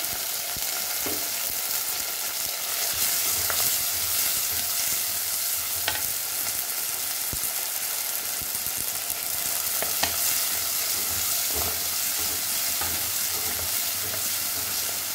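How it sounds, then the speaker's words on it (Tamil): Onion and dried red chili frying in a pan, with curry leaves, coriander leaves and asafoetida added: a constant loud sizzle, with occasional stirring clicks and scrapes and no talking. "வெங்காயமும் வரமிளகாயும் போட்டுக்கலாம்."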